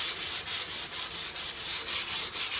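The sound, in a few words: block sanding Evercoat polyester primer on car fender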